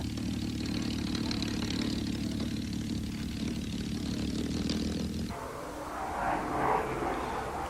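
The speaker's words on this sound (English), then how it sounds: "another look at the Blenheim, a lovely close-up doing a fast run" A Bristol Blenheim aircraft makes a fast low pass at an air show, a loud continuous engine drone that shifts in tone partway through as the aircraft passes close by.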